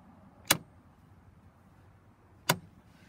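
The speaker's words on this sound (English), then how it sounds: "You can sort of hear like a little click in the back of the truck also." Fuel tank selector switch on a 1989 Ford F-350 with a 7.3 diesel, clicking twice, about two seconds apart; each click is a sharp, close, isolated snap over a quiet background.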